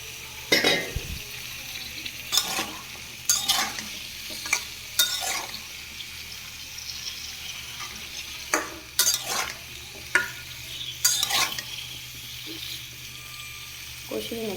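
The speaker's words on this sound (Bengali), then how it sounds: "সবজিটা কি সুন্দরভাবে কষাচ্ছি" Five kinds of mixed vegetables, including potato, green papaya, raw banana and beans, stir-fry in a home pan with soft sizzling and repeated scraping strokes of a spatula, some louder clatters against the pan.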